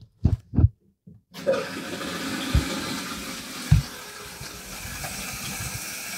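A toilet tank refills through a newly installed fill valve. A few sharp clicks open it, then a steady rush of water runs on, close and even.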